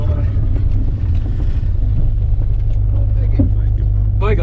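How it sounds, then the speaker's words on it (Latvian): Rally car exhaust of the Cedrus Tropos Racing team at the Gulbis minirally: a loud, steady low engine drone with a throbbing rumble, heard close from inside the car, with faint voices. "Baigā skaņa no izpūtēja."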